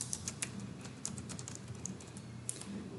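Steady typing on a computer keyboard while entering a search in QGIS mapping software, quick irregular clicks of keys close by and moderately quiet, continuing throughout without talk.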